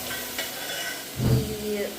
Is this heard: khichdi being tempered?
yes